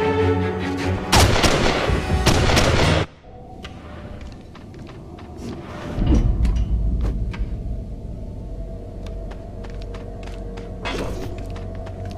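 Loud bursts of gunfire ring out in the stealth game Mark of the Ninja. A dense volley lasts about two seconds, then a thudding impact follows, with scattered clicks and a low rumble underneath.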